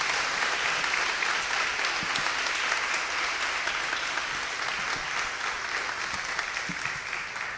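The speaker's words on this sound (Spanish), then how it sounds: "dale el mejor de los aplausos al Rey de Reyes" Church congregation applauding, a sustained, even roar of many clapping hands that carries on for several seconds, moderately distant and slowly easing.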